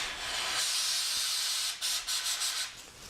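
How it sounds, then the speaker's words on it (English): A long, steady hiss of a spray can blasting continuously into a grocery bag, then sputtering into a few short bursts as it tapers off. "I'm gonna get this grocery bag and I'm gonna spray into it"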